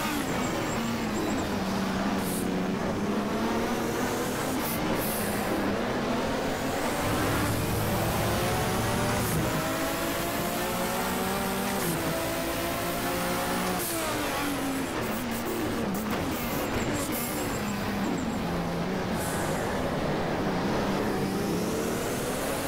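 A BMW M1 Turbo race car in the rFactor racing game at the bumpy Norisring circuit, its engine roaring continuously and rising and falling through repeated revs and gear shifts, loud and close throughout with no talking.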